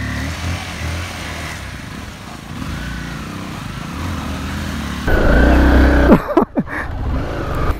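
A motorcycle labors along a muddy road, its engine droning unevenly, then revving hard near the end with a surge and sputtering bursts, close and loud.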